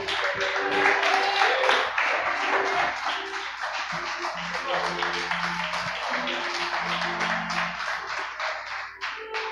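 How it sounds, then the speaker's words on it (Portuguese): A church congregation claps in praise, a dense steady patter of many hands carrying on for several seconds over sustained music, moderately loud and even. "Você pode aplaudir e dar glória a Ele."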